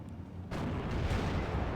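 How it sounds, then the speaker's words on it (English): A tank is hit and its ammunition explodes in the World War II strategy game Steel Division: Normandy 44, heard as a sudden loud boom that rolls into a sustained, rumbling blast. "Hit. Ammo explosion."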